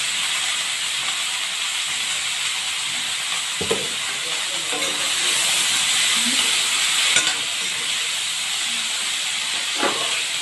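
Sliced onions with salt fry in a pan for an egg curry, a continuous loud sizzle and hiss close up, broken by a few brief stirring scrapes.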